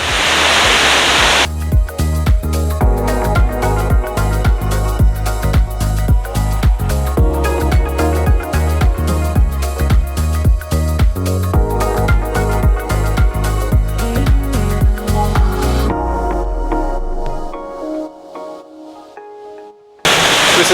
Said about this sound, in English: We've just hit our first waterfall.